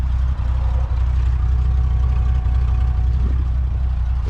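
A 1961 Willys Jeep's 302 V8 engine idles steadily and smoothly at close range, a low, even rumble running throughout with no talking over it.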